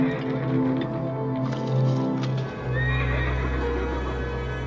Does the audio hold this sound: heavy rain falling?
no